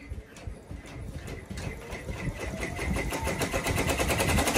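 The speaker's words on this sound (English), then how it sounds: "now it's going to do the satin stitch for the letter N" An embroidery sewing machine stitches a satin-stitch letter N for appliqué on a heirloom quilted blanket, a fast, steady mechanical whir and rapid needle ticking that grows slightly louder, close up with no voices.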